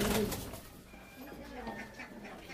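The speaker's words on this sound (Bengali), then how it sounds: "এই পায়রাগুলো দেখতে পাচ্ছি।" Pigeons coo softly in a pigeon loft, faint low warbling calls against quiet background murmur, close but not loud.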